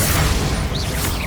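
Bombarda blasting spell going off in Hogwarts Legacy, a dense, loud boom with a rumbling low end and crackling debris, sustained throughout with a brief whooshing magic shimmer partway through.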